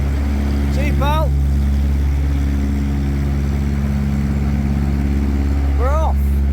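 A narrowboat's engine runs steadily at about 2,000 RPM on the Lancaster canal, a loud continuous low drone with harmonic hum throughout, with brief birdlike chirps near the start and end.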